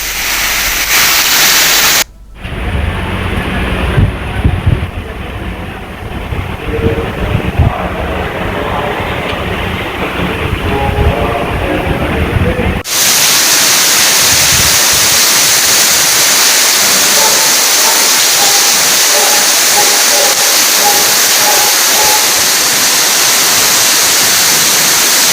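Heavy rain pours down in Hyderabad amid thunder and gusty winds, a loud continuous wash of broadband roar that shifts character midway, with faint voices briefly audible in the first half.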